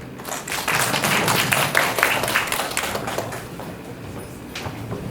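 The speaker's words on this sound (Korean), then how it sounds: "그 발표하신 이강혁 선생님과 토론하신 하종수 선생님께 박수 부탁드립니다" Applause from the audience at a Korean academic conference, a sustained patter of many hands clapping at moderate volume for about five seconds, easing slightly toward the end.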